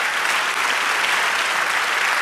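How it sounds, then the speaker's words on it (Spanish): Church congregation applause during a sermon by a pastor, loud, dense and sustained clapping from many hands for a couple of seconds, with no voices over it. "Dale fuerte ese aplauso a Él."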